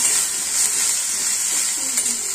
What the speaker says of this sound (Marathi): मसाले तेलात फ्राय करून घेऊया।